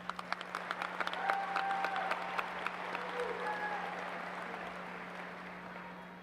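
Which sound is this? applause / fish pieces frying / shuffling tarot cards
applause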